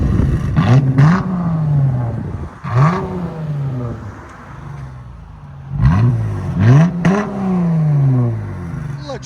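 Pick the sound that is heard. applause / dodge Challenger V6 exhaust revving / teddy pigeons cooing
dodge Challenger V6 exhaust revving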